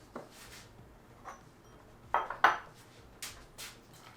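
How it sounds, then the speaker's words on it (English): Glass jar and metal pickling weight being handled for sanitizing before fermenting mustard greens, giving several quiet clinks and knocks spread over a few seconds, with a sharper pair of clatters midway and faint pouring of boiling water in the background. "Here you can see that I'm pouring boiling water into a bowl containing the pickling weight and into the jar."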